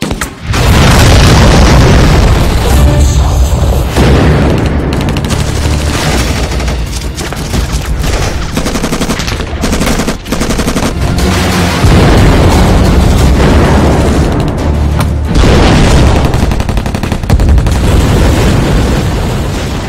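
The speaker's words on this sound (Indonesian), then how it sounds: "Mereka membidik ke arah drum minyak milik musuh, lalu dengan segera tim sniper menghancurkan drum tersebut." Loud booms and rolling explosive blasts erupt as snipers shoot an enemy oil drum in a combat scene, with repeated heavy bursts and gunfire-like cracks dominating the whole stretch.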